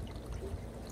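Water runs slowly through a homemade bucket sluice paired with a poop tube, a faint, steady trickle and wash that continues without a break.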